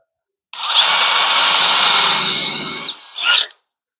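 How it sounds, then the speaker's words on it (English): A power drill with a very small bit bores a pilot hole into wooden architrave, running as a loud, steady whine for about two and a half seconds, dipping briefly, then revving again before stopping. "so a very small drill bit."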